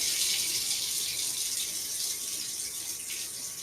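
A tap runs steadily, a continuous close hiss of warm water pouring into a sink for hand washing, with no pauses.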